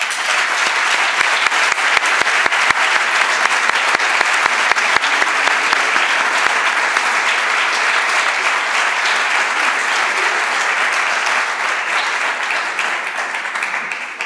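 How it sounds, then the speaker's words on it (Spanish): A large audience applauds steadily at an education anniversary celebration, a full, even wash of clapping lasting throughout and tapering slightly at the end. "os pido un fuerte aplauso"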